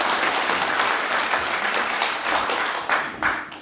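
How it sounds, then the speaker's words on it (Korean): A hall audience at a cultural event claps in thanks, a sustained dense round of applause from many hands, loud and close, tapering slightly near the end. "우리 감사의 박수 한 번 더 쳐드릴까요?"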